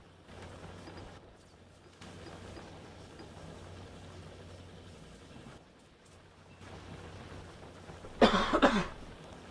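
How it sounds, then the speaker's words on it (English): A single short burst of coughing near the end, loud and close, after a stretch of quiet, low background hum with no speech. "I love coughing."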